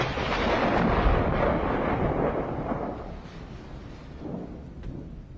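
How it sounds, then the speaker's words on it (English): Deep rolling thunder rumbles loudly and then slowly fades over several seconds, with a few faint cracks near the end and no voices. "The sound of thunder may indicate divine intervention or anger."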